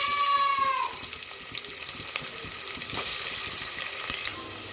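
Chopped onion hitting hot oil in a pressure cooker, a close, steady hiss and sizzle that stays loud and continuous, with a brief brighter crackle about midway and no voices.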